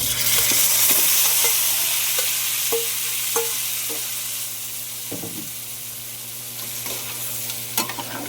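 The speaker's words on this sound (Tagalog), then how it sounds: "Ilagay na natin yung talunan natin." Chicken pieces and garlic frying in a pan for spicy fried adobo, a loud, steady hissing sizzle with intermittent clinks and scrapes of a spatula stirring close by.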